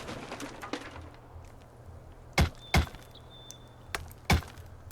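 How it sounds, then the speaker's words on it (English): Raiders in Rust strike a door frame with pickaxes: several sharp, loud, separate impacts at uneven intervals, over quieter background knocks and ambience. "they're now going back to work, hammering on that door frame"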